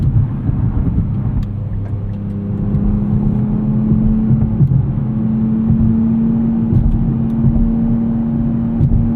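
A 2024 Nissan Z Nismo engine drones from inside the cabin, a steady low rumble with slight rises in pitch as the transmission shifts between sport modes.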